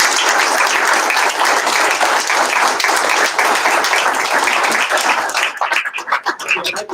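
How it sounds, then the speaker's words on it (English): Audience at a mayoral candidate forum gives a round of applause, dense steady clapping that holds evenly for several seconds, then thins into scattered individual claps before fading. "can everyone join me in giving a round of applause?"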